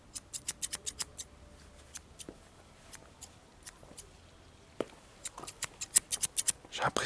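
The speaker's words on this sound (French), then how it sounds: "J'ai l'impression qu'on n'entend pas beaucoup les ciseaux." Scissors snipping outdoors in a village at night, a series of quiet crisp cuts in quick bursts with pauses between them, faint against soft background hiss.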